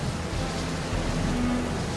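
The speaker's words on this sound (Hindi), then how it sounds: "तेज हवा के साथ बारिश और उसी बीच बिजली कड़कने लगी" Heavy rain driven by strong wind on a stormy night, a steady, dense broadband wash that stays loud and unbroken throughout with no pauses.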